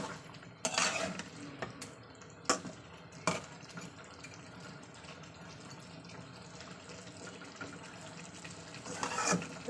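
Water is splashed in short bursts into a pan of live lata fish curry, with a few louder pours, then quiet clinks and stirring between them.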